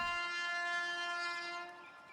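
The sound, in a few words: train departing from the station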